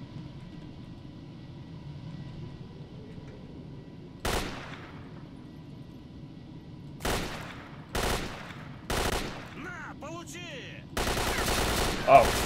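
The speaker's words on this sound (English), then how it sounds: "did you see how fast our gun shoots? Because we got the new fast assault rifle" Assault rifle bursts in the game S.T.A.L.K.E.R. at night, short loud volleys breaking up quiet ambience, ending in a longer sustained stream of fire.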